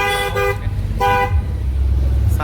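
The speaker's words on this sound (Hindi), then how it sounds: "ऑटो में ऐसे हॉर्न लगवा है जानो मानो साला ट्रक व्रक आवा थे।" An auto-rickshaw fitted with a loud truck-style horn honks in traffic, sounding two short bursts and then one longer blast, the tones strong and brassy over a steady engine rumble.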